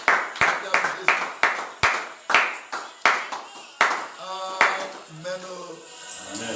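A church congregation clapping in steady, evenly spaced loud claps, a dozen or so strikes, while a voice speaks and then sings over them toward the end.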